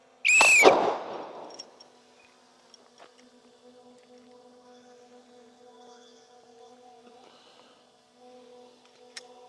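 A single loud gunshot rings out at an outdoor shooting range, its sharp crack trailing into a short echo before the range settles into a low, steady hum with faint scattered clicks.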